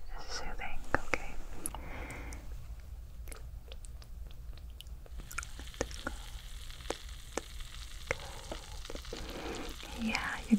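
Soft, crackly sizzling close in the ear during an ASMR head spa ear cleaning, fizzing in irregular bursts beside faint whispering and small tapping and rustling touches.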